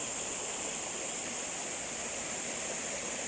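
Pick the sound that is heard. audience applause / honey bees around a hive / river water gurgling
river water gurgling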